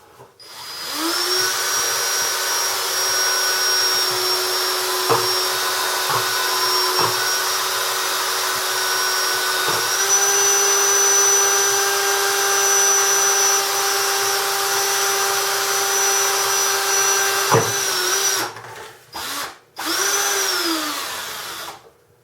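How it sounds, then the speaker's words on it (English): A power drill whines at a steady high pitch for about seventeen seconds, drilling a half-inch hole in a Jeep panel, with a few short bumps, then stutters and stops in quick bursts. "we're going to drill a hole in this panel right here for the switch"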